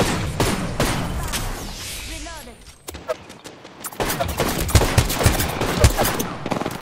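Gunfire in Apex Legends rattles in rapid bursts of shots, near and loud, with a brief lull mid-way before the shooting resumes, while a player talks over it.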